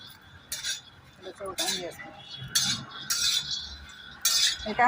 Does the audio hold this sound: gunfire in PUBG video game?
no